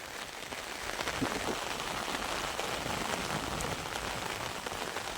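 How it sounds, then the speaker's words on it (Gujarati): Heavy monsoon rain pours down steadily in a rural village, with a dense, continuous hiss of drops striking surfaces that stays loud and even from start to finish, with no voices. "ફૂલ સુમાહો આવી ગયો હોય ને એમ વરસાદ પડે"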